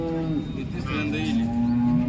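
A cow moos close by at a cattle and buffalo market in one long, drawn-out low call, with faint background noise.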